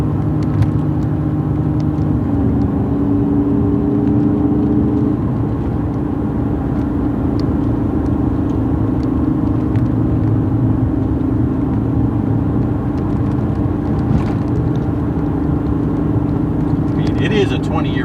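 A 20-year-old 2005 Cadillac CTS-V with 143,000 miles, a manual car, drones steadily from inside the cabin while driving, its low engine rumble continuous and even under ongoing talk.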